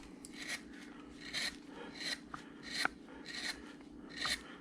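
A number 9 gouge shaving wood on a bandsaw-blank Santa carving, with a series of close, rasping cuts at a regular pace, each stroke a short scraping burst over a quiet room hum.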